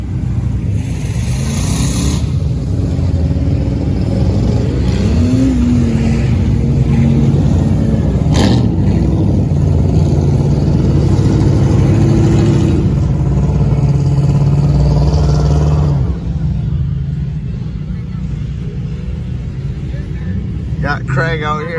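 A Dodge car's engine revs loudly and steadily, its low rumble and rising whine filling most of the stretch before easing slightly near the end, with people's voices breaking in over it.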